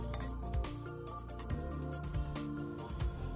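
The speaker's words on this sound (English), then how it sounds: "I like to stir it up next." A spoon stirs food coloring into a cup of water for a homemade lava lamp, giving quick, light clinks and taps against the cup, close and fairly soft, with no talking.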